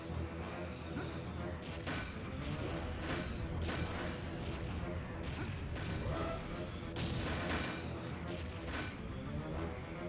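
Rocket explosions in the Nintendo 64 game Jet Force Gemini: a dense, loud barrage of booming blasts and crashing impacts that runs without pause for ten seconds, with no quieter gaps between hits.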